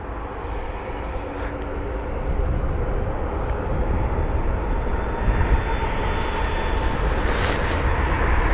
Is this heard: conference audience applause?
no